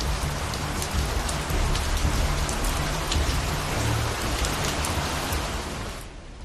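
Heavy monsoon rain pours down in Delhi, a dense, steady roar of drops hitting surfaces that holds at full strength before easing slightly at the end.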